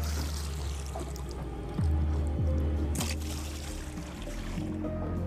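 A man imitates a large crocodile surging fast through river water: a steady churn of low gurgling and splashing with a few soft thumps near the start, moderately loud and continuous.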